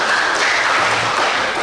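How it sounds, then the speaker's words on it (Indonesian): Brief, dense applause from a seminar audience, loud and even across its short span. "Ya, tepuk tangan Bapak Ibu."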